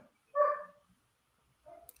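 A dog barks once sharply, then gives a softer, shorter bark a moment later, both close and alone.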